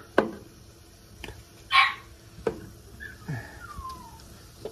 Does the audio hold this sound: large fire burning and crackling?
no